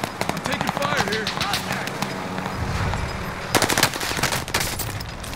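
Rapid bursts of automatic gunfire in the Call of Duty: Modern Warfare video game, crackling in dense volleys with a loud cluster near the end, under shouted player talk.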